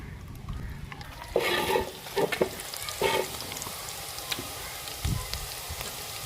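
Onions sizzling in ghee in a cooking pot, a steady frying hiss with a few louder bursts of stirring and spattering, heard fairly quietly and without talk.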